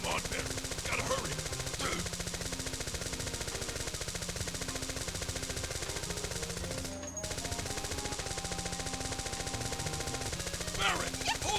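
Barrett's gun-arm in the 1997 Final Fantasy VII firing continuously in rapid, even repetition, layered with steady in-game music throughout.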